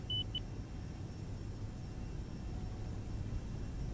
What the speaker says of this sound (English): there goes that annoying beeping again